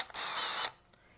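A handheld electric drill used for polishing headlights with foam and heavy cut pads revs in one loud, steady burst of about half a second, then cuts off, leaving faint mechanical ticks.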